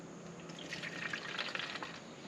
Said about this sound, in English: we're going to put a splash of vinegar in here